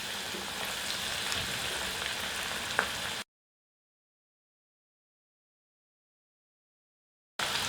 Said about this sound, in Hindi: तेल काफ़ी गर्म है और हाई फ्लेम पे ही हम एक बरियों को फ्राई करेंगे।